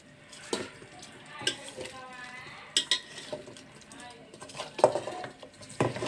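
Food with oil, chili powder, salt, onion and cumin is stirred and mixed in a pan, giving intermittent scrapes and metallic clinks at irregular intervals, fairly quiet and close.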